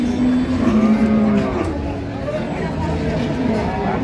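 Cows and calves call with loud, drawn-out moos at a rural cattle market in Dinajpur, Bangladesh, set against a crowd's murmur and talking voices.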